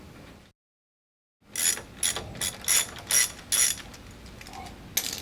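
A ratchet tightens a valve on an XR2600 pressure washer. After a short silence comes a close, quiet run of sharp clicking pawl strokes in uneven bursts, with no voices.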